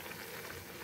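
Noodles boil in a pot of water on a gas stove, giving a steady, low bubbling wash with no clear individual pops, close and fairly quiet throughout.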